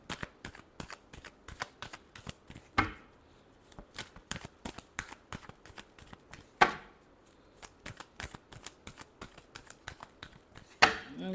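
Tarot cards are riffled and shuffled in rapid crisp bursts, a brisk rhythmic flutter of snaps broken by three louder slaps of the deck, close and clear, with no voices.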